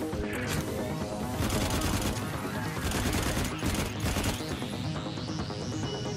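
A dense, loud barrage of overlapping explosive blasts and rapid booms fills the whole stretch, the artillery strike in the Firefall video game landing as a sustained roar of impacts.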